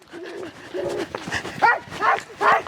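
A rabid dog barks and yelps in a village, a run of about five loud, strained barks that grow stronger toward the end, with no clear talking over them.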